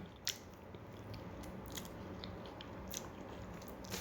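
Someone bites into and chews a ripe fruit close up, producing faint, irregular crisp crunches and wet chewing sounds over a quiet background.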